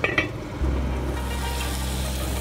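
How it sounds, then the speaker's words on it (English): Cow skin cooks in a covered pot, giving a steady, even sizzle and bubbling that starts after a couple of brief clinks of the lid and then carries on alone at close range. "So I put back the lid and let that cook away."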